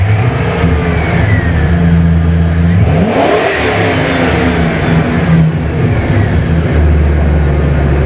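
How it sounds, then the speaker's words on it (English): A 2002 Ford Excursion 6.8L engine with a stalling problem, heard up close and loud as it idles steadily, then rises briefly in a light throttle snap before settling back to a rough, even drone. "I want to snap the throttle and put a load on this, and I want to look at it with a light snap"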